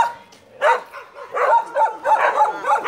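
A dog barks and yips repeatedly outdoors, a series of sharp, close barks in quick succession with some whimpering tone, loud and clear with no talk over it.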